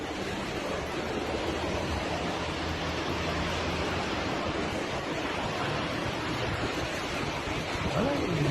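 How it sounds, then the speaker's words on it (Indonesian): A tornado whirlwind tears through Rancaekek with a loud, steady roar of wind noise and rumble that holds throughout, with no clear voices over it. "Angin puting beliung di KHT Rancaikek."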